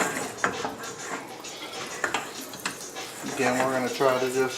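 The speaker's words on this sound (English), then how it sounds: "slide this around a little bit to prevent sticking" An apple pie is slid around in a pan over a low flame, giving scraping, shuffling pan noise with light clinks, while a voice talks over it and grows more prominent near the end.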